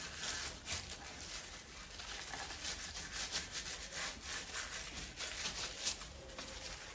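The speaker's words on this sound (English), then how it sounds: "And then use the actual plastic that I got the wax out and rub that in" Homemade dark wax being rubbed into wood with a piece of plastic, a steady, faint scraping and rubbing in quick repeated strokes, heard alone.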